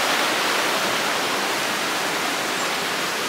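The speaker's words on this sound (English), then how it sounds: "The waterfall is right over this way." Steady roar of rushing water from a waterfall just around a corner, a dense, unbroken wash of broadband noise at close range holding at constant loudness with no voices.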